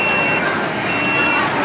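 A restaurant order-number pager alarm at a Greenwich outlet in SM Fairview goes off, a steady high electronic beeping held over a busy crowd murmur for the whole stretch.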